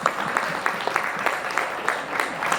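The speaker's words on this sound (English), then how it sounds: "A big round of applause for Dr." Audience applause after a divinely beautiful performance at the Shishir 2023 cultural event, steady clapping with soft rhythmic peaks, moderately near, with no talk over it.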